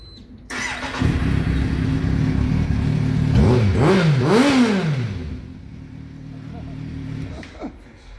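A Husqvarna Svartpilen 250 motorcycle engine idles loudly nearby, then revs up through the exhaust in several rising and falling bursts before settling back to a steady idle.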